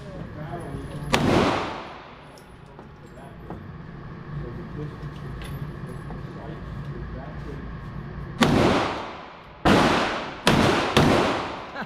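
Gunshots at an outdoor shooting range, one sharp loud report early on and then four more in a quick uneven series near the end, each with a ringing decay over a steady background hum.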